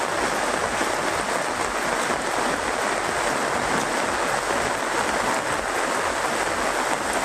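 Heavy rain falling over village fields, a dense, steady hiss of downpour that holds evenly throughout with no voices.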